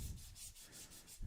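Sandpaper rubbing steadily against spinning wood on a lathe, run in reverse, giving a continuous close hiss with a soft rhythmic pulsing and no talk.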